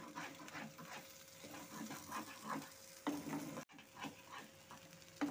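Spice paste for a semolina and taro mash stirred and sautéed in a pan, with a low sizzle under repeated scraping strokes, a lid clatter partway through and a dog barking faintly in the distance.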